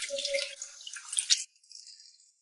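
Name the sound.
washing cabbage leaves in clean water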